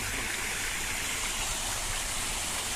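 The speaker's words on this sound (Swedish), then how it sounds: "Detta är en kombination dels ifrån den lokala fontänen men även till den stora fontänen" Water fountains splashing in Rossio square, Lisbon, a steady, dense rush of falling water that stays loud and even throughout with no voices.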